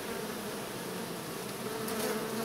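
Honey bees buzz steadily around a hive in a strong colony, a dense, continuous hum close by with no voices over it.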